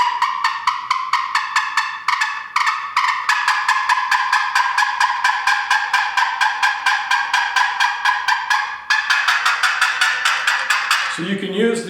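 Rapid, evenly paced yelping from a Trinity Yelper turkey box call, many sharp high notes in a continuous run, loud and close, ending with a brief lower clatter.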